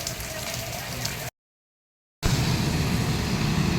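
Steady rain hisses loudly and continuously, broken by a brief stretch of complete silence before resuming even heavier.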